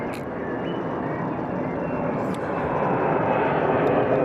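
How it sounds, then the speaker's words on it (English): A steady, loud roar of an airplane passing overhead at Cramond, Scotland, swelling slightly as it goes, with faint voices beneath. "Another plane!"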